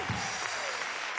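Studio audience applause on a television talk show, a brief burst of dense, fairly quiet clapping.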